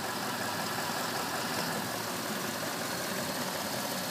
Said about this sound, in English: Just listen to the sound of that engine.